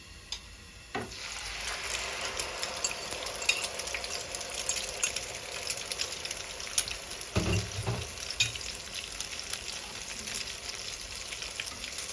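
Eggs frying in a hot pan with shells and pumpkin shoots, a steady crackling sizzle throughout with a couple of sharp utensil knocks, close and alone without talk.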